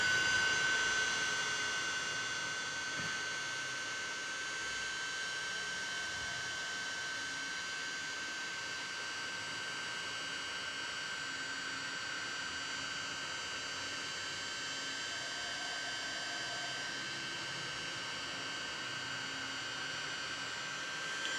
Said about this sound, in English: So I'm gonna dry out a little bit the outside.